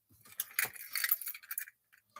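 A bunch of keys jingles close by in a few bright, metallic bursts of clinking, tapering off into quiet with a final faint chink.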